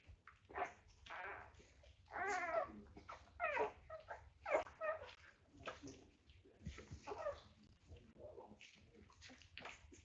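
A mother dog, one of a litter household, whimpers and whines in a run of short, high, wavering cries, close by and fairly quiet, with a few gruffer sounds between them.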